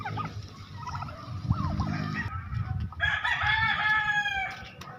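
Turkeys waiting to be fed call loudly and close by, with gobbles and clucks overlapping among other farm fowl against a steady outdoor background.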